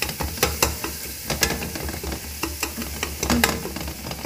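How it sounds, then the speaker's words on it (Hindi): A spoon stirs and mashes spiced masala with onion in a pot while making dal, giving a close, steady scraping and sizzling texture with small regular knocks, and no one speaking. "ये मैं चम्मच के साथ इसको थोड़ा ऐसे कर रही ताकि इसका मसाला जो है वो मैश हो जाए"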